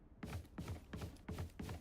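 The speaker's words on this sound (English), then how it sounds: "reloading" Weapon reloading in Valorant: a run of mechanical clicks and clacks in four or five quick bursts, near and fairly quiet, with no talking.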